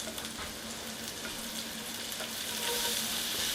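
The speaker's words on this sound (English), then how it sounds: "So I'm going to put all this in this pan with this butter, and we're going to cook it." Celery, green pepper and shredded carrot cooking in butter in a pan for wild rice soup, giving a continuous close hiss and crackle of frying with a faint low hum beneath, swelling slightly toward the end.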